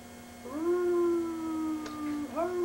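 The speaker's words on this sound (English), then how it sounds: "Your damn dogs are out there. Yeah, you're making a racket." A dog outside lets out one long, steady howl lasting nearly two seconds, then starts another rising howl, clear and moderately near, with no one talking.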